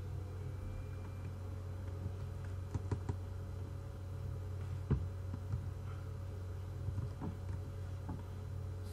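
Sparse, faint clicks of typing on a computer keyboard, tapping in short irregular clusters over a steady low background hum.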